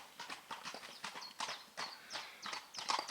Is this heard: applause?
no